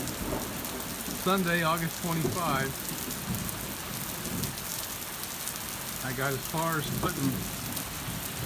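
Steady rain falls outside a house with windows being masked for leak repair, a constant hiss beneath a person talking in two short bursts.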